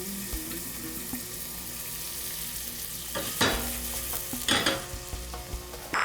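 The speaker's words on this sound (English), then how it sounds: "We've just got some oil in the pan." Garlic and onion fry in oil in a pan for a home-cooked Iraqi dish, a steady low sizzle running throughout with a few louder bursts of crackle and stirring scrapes near the end; no one speaks.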